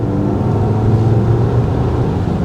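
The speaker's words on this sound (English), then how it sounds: "There's definitely more of a throatier engine noise." Mazda CX-80 SUV engine in sports mode, a steady throaty low drone heard from inside the cabin, holding constant and fairly loud with no talk over it.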